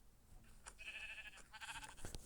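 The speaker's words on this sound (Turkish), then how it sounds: "Burada koyun bolluğu mu var ya?" A couple of sheep bleats in Minecraft, thin and wavering, over a steady soft background hum, fairly faint and slightly distant.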